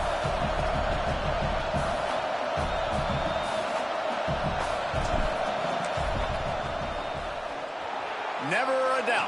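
Stadium crowd at a college football game roars steadily during a fourth-down field goal attempt, a broad continuous wash of noise with a commentator talking over it.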